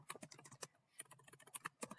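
Rapid, light keystrokes on a computer keyboard enter a name, a quick irregular run of soft clicks close by with one brief pause midway, quiet overall and with no talking.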